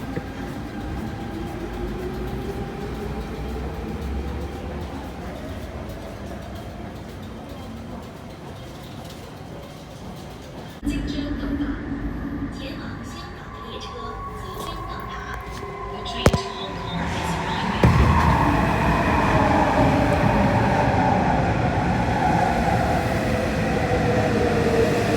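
A subway A train at Olympic station rumbles and rolls through the platform, with steady low mechanical noise, a sharp clank midway and rising screech and roar near the end.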